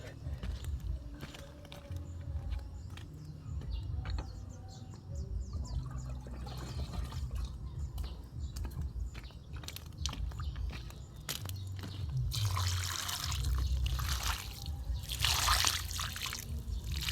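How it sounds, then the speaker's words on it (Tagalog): Water poured over a newly planted seedling in a garden, a soft trickling and splashing that builds louder toward the end, with a voice talking over it and faint background sounds. "dahil bagong tanim, lagyan natin ng tubig."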